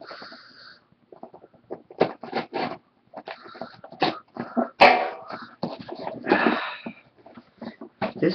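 A dog indoors makes short whimpering and yipping sounds in close, broken bursts, mixed with sniffing and mild rustling while a person talks intermittently.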